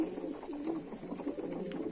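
Pigeons coo steadily in a loft of young birds, mostly pied and grey, in low, soft, repeated rolling calls that overlap one another at close range with no voices.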